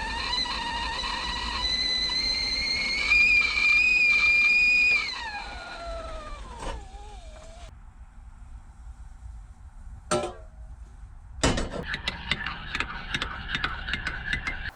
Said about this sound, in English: This kettle doesn't always whistle now.